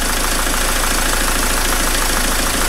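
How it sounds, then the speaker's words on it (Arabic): A diesel car engine idles after its injectors were cleaned with Wynn's, producing a loud, steady, close rumble with a fast, even knocking pulse throughout. "نشوفوا تو الموتور قداش ولا ارتاح اكثر"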